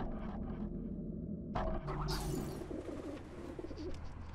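Birds in the Mark of the Ninja stealth game coo and chirp in short bursts, then a flutter and scuffle of wings breaks out midway, fairly close against a low background hum.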